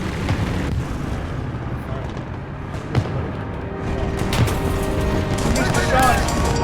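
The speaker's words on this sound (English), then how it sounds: "I dropped a bomb on him" A bomb explodes in War Thunder, a deep booming blast with a sharp transient near the middle and rumbling, noisy battle sounds around it, under ongoing game noise and talk.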